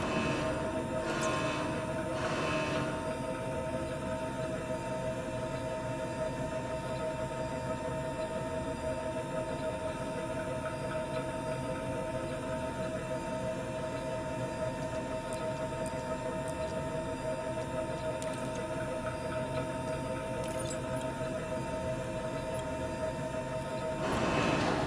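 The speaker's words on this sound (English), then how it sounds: "the Corsair is ridiculously loud for no reason." Engine noise of the Corsair spaceship in the video game Star Citizen, a steady, loud droning hum with tonal whine that runs unbroken throughout, with a few faint clicks.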